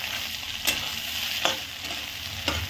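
Egg bhurji frying in a pan: a constant bright sizzle with three distinct scrapes of a spatula stirring the eggs, close-up and uninterrupted by voices.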